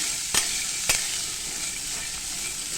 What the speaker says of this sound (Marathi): फक्त तेलामध्ये आपल्याला चांगले खरपूस भाजून घ्यायचे चणे